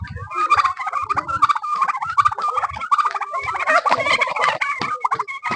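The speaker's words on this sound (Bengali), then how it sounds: "সাদা টার্কি মুরগি। টার্কি মুরগিগুলা নিজেদের ভিতরেই" White turkeys squabble among themselves at a picnic corner in the Sundarbans, Satkhira, a dense, loud chorus of overlapping gobbles and rapid warbling calls close to the microphone, without pause.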